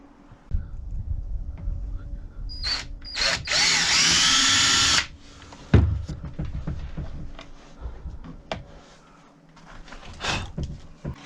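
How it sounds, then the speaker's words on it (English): A power drill whirs in one loud burst of about two seconds, drilling a hole in an Old Town Sportsman 12 kayak for a fish finder install, amid handling clatter and knocks. "I got more room to drill from the inside out"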